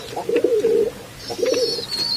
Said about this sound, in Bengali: এগুলো হলো আমার কবুতর থাকার খোপ ডিম পাড়ার খোপ চিঁচি শব্দ অবশ্যই শুনতে পাচ্ছেন